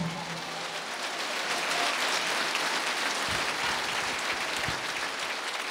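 A church congregation at a Quechua Christmas sermon breaks into steady, moderately loud applause, a dense patter of clapping that holds evenly throughout with a couple of low thumps near the end.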